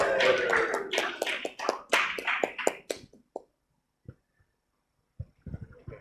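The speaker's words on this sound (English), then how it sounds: "I want all of you to please clap loudly." Audience clapping at a conference, a burst of dense applause for about three seconds that thins to a few scattered claps, then quiet with faint noises at the end.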